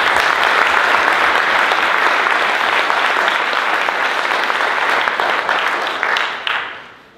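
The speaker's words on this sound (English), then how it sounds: "applause to the organizers because they are organizing a great DjangoCon this year." An audience at DjangoCon applauds the event organizers, with loud, sustained, dense clapping from a large hall crowd that fades out at the end.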